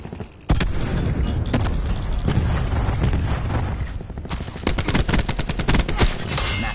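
Cluster grenade detonations in Call of Duty Black Ops 4, a burst of loud overlapping booms and crackling blasts followed by a dense rattle of rapid gunfire, close and continuous with no talk.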